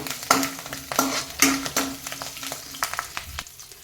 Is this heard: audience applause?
no